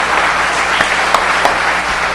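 A church congregation applauds during a Spanish-language sermon, a dense, loud, steady wash of clapping from many hands with no pauses.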